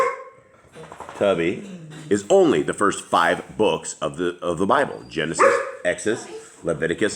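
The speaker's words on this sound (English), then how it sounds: "my apologies for my dogs. They're all crazy" Several pet dogs bark and yip intermittently behind a man steadily reading aloud, the barking partly masked by his continuous close speech.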